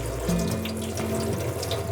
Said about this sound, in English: I put on really cold tap water. I let the water run for a while